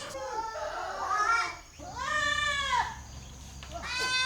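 Goats in The Gambia bleat in long wavering cries, several calls in succession close by, the later ones higher and more strained, over a low background rumble.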